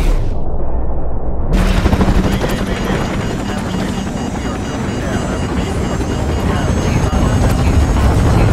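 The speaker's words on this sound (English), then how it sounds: "Incoming missile!" A missile strike in Call of Duty: Modern Warfare Remastered, a sudden loud boom after a short lull, then a sustained heavy rumble with roaring aircraft noise and debris, with voices shouting partway through.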